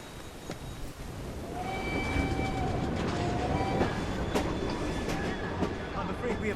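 A train running in the Victorian London game Assassin's Creed Syndicate rumbles steadily with rhythmic clickety-clack wheel beats and a few thin metallic squeals, holding a continuous, fairly close roar throughout.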